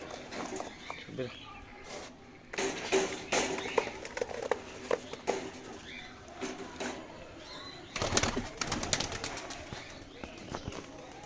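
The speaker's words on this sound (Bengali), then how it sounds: "এই যে দুটো পায়রা আরো ছাড়ছি" Pigeons are let go and take flight nearby in bursts of wing flapping and clatter, with soft cooing and rustling between the flurries while a person talks quietly.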